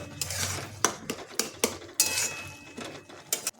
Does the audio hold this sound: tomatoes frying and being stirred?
yes